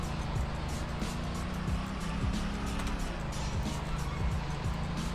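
A 1970 classic Mustang with a 4-speed in the Roblox game Greenville accelerates in a speed test. The engine revs climb repeatedly and drop back at each gear shift, loud and continuous.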